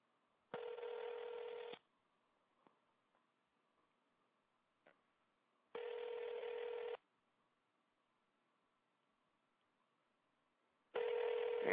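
An outgoing phone call rings on the line in three long, evenly spaced buzzing tones, with faint clicks in the quiet gaps between them.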